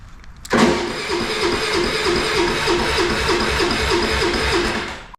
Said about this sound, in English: If the bike doesn't start immediately, stop cranking, wait 10 to 15 seconds, and try again.